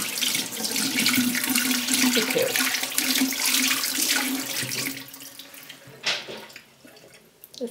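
Warm tap water runs steadily from a faucet into a sink while hands are rinsed, a loud continuous splashing stream that eases off near the end.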